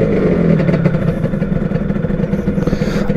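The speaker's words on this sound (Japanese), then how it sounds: "アイドリングは絶妙やな。" A Honda NSR250 motorcycle engine idles steadily and close by, a loud, even two-stroke burble with a slight rhythmic pulse and no talk over it.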